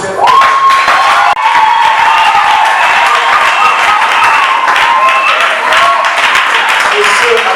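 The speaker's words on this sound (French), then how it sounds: "On applaudit très fort." Loud applause from the guests at a civil wedding ceremony just after the couple is declared married, with dense clapping, scattered cheers and excited voices, plus a brief tone near the start.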